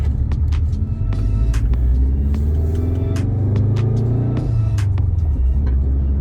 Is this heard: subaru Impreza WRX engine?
yes